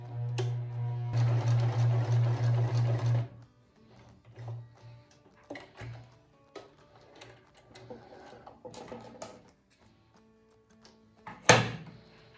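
Sewing machine topstitching a jacquard corset cup, a loud steady run of rapid stitching for about two seconds, then near silence with faint handling clicks and a sharp knock near the end.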